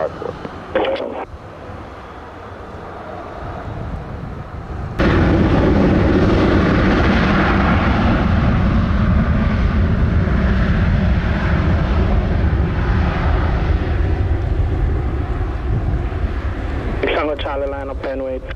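An American Airlines airliner takes off from runway 07 at Montego Bay, with a sudden loud, sustained jet engine roar that holds steady and slowly fades, preceded by quieter background noise and radio chatter.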